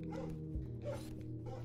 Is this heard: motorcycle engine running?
no